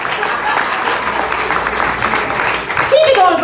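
A comedy club audience applauds a comedian at the end of her set, with loud, dense clapping filling the room and a voice beginning to speak over it near the end.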